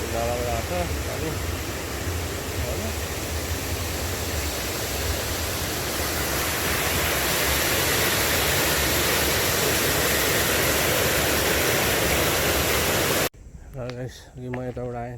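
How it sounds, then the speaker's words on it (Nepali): Muddy water from a channel pours into a reservoir near Aberdeen on the Wan Chai Gap Road to the Peak, a loud broadband rushing roar that fills most of the clip before cutting abruptly to quieter ambience. "नालाबाट आउँछ पानी"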